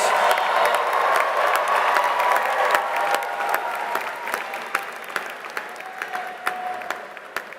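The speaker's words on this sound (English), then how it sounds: "Let's give them a really loud round of applause, please." Sustained applause from a large commencement ceremony crowd, steady and enthusiastic, with a few louder claps standing out near the end.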